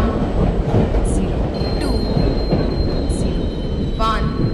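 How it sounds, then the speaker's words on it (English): An express train rolls into a station platform in Indian Train Simulator, its wheels grinding and squealing loudly and steadily, with high metallic screeches and a faint background announcement. "Goods Express is arriving at platform number 2."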